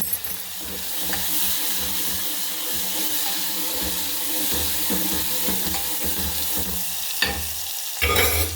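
Tomato and garlic hit hot oil with bitter gourd (karela) sabzi, giving a loud, steady sizzle and hiss with scraping stir strokes and a few sharper clatters near the end, no voices.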